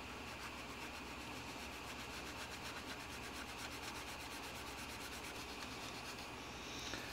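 Steady rapid scraping of sandpaper on the wing root of a 1/48 Tamiya F-4B Phantom plastic model kit, a continuous close, even rubbing that runs without pause or voices.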